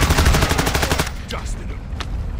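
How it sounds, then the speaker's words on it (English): Rapid automatic gunfire from the Call of Duty video game, a fast burst of shots for about a second followed by a few scattered single cracks, loud and close. "Oh, you got shot at. We got shot at."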